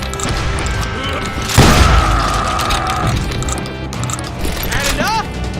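A loud shotgun buckshot blast booms out in the western shooter Call of Juarez: Gunslinger, a single sharp crash followed by ringing tail, with someone shouting over game music and action.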